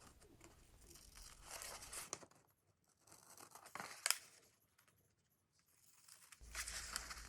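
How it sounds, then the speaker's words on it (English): Paper being cut with a pair of scissors along a dashed line to free a printed sizing tool for Series 100 hooks; quiet crisp snipping and rustling in three short bursts separated by near-silent pauses, with no talking. "Using a pair of scissors, cut on the dashed line to cut out the sizing tool."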